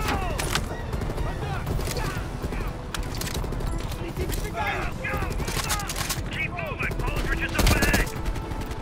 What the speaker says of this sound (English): Do you not see me currently shooting bad guys?